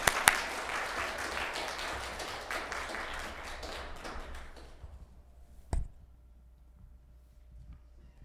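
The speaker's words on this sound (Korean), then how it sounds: "이제 목사님 나오실 때 우리가 환영의 박수로 맞이하시겠습니다." A church congregation at a Korean Sunday worship service gives welcoming applause. It is dense and moderately loud at first, then thins and fades away over several seconds, with a single soft thump near the end.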